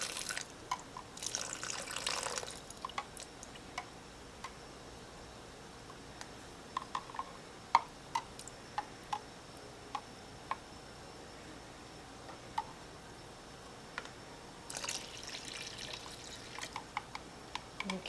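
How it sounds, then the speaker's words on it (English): Liquid trickles and drips quietly at close range, with short bursts of splashing pouring near the start and again toward the end. "now we're going to take our lemon juice and pour that inside of our blender cup"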